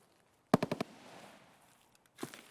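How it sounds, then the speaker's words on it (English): A quick burst of four loud gunshots rings out in Escape From Tarkov. A reverberant tail follows, then a fainter shot or two about a second later. "Hearing these gunshots means that we can loot."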